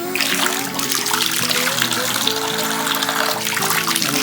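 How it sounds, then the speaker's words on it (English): Warm water pouring steadily from a tap into a bathtub to bathe a pet possum, a constant splashing rush close by with a faint tonal hum underneath. "Alright, I'm going to give you more water, bud."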